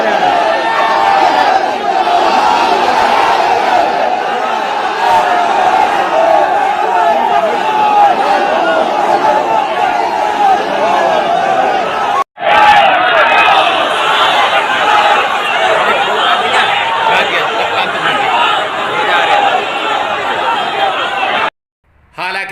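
An unruly crowd in a procession at Jama Masjid in Shahjahanpur, a loud continuous roar of many voices shouting and chattering close by, broken only by two brief cuts.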